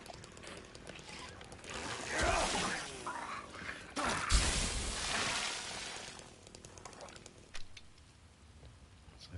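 In the Silent Hill 2 Remake game, drywall is kicked through with crunching, crumbling impacts and debris scattering, several bursts of breaking over a few seconds amid background game ambience.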